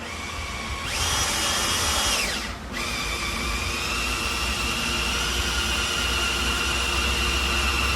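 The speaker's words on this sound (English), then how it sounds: "get the drill." A power drill whirs loudly and steadily at close range, drilling out a nail head in a wooden pallet, its pitch briefly rising then dipping as it bites, over a constant motor drone.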